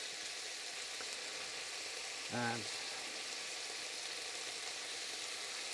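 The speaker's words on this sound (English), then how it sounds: "we're just going to let this sit and sizzle" Peppercorns sizzle in a pan with a soft, steady, low-level hiss throughout, and a voice briefly speaks a single word partway through.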